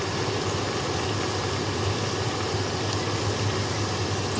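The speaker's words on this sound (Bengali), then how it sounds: "তেল তো হয়ে গেছে, এক এক করে দিয়ে ভেজে নেব।" Khaja pastries deep-fry one by one in hot oil: a dense, steady bubbling hiss that stays loud and even from start to finish, with no talk.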